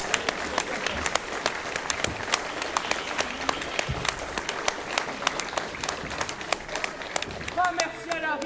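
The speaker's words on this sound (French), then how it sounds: "Et je vais applaudir la performance." A crowd gives a standing ovation, sustained dense applause with scattered sharp claps that runs throughout at an even, fairly loud level, and a voice talks over it near the end.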